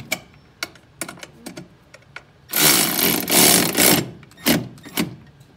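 Coarse-thread zinc-coated nuts being tightened on an Opel GT ball joint, a close ratchet-like run of rapid clicks lasting about a second and a half, with scattered taps and clicks around it.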